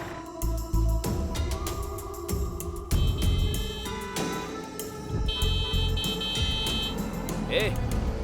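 Vehicle horns honk in several bursts, some long and steady, amid traffic noise and people talking nearby.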